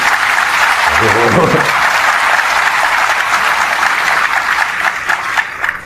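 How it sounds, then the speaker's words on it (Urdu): Audience clapping at a religious lecture: sustained, dense applause from a large crowd that fades slightly toward the end, with a voice speaking briefly over it early on. "یہ تو دکھ والی بات پہ تم نے تالیاں بجائی ہیں"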